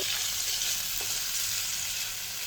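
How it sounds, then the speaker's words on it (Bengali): Chopped tomato and green peas frying with garlic in a pan for a Bengali eggplant dinner, a loud continuous sizzle with light stirring and no talk. "টমেটো আর মটরশুঁটিটা দিয়ে এক মিনিট একটু নেড়ে নিয়ে"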